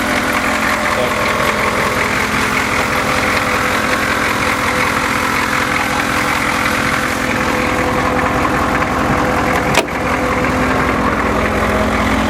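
The 6.2-litre diesel of a 1983 Chevrolet Suburban idling in a steady, close, loud clatter that runs without a break, with a brief knock near the end.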